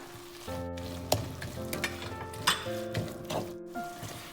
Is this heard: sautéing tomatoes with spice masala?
yes